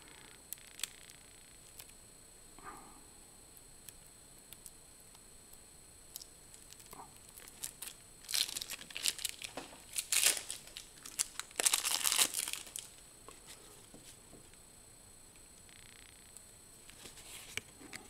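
Plastic wrap and cardboard packaging of a second-edition Dark Venture board game being torn open and crinkled, with soft rustles early on building into louder bursts of crumpling and tearing near the end.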